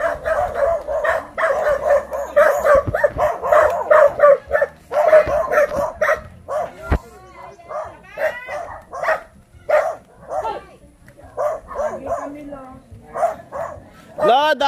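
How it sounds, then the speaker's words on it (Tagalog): Dogs bark repeatedly nearby, loud sharp yelps in quick bursts, with people talking over and between the barks. "Oh, may aso."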